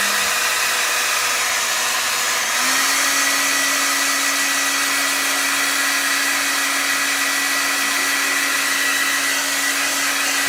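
A hair dryer blows steadily and loudly to dry a watercolor beaded wash painting, one continuous whirring drone with a slight pitch step early on, no talking.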